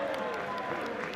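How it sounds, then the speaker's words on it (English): Warm applause from a travelling rugby crowd at a large, partly filled stadium during a school match between Haileybury and Llandovery College, a steady wash of clapping over the whole moment with a commentator's voice faintly mixed in. "A warm applause from the crowd, who have travelled well"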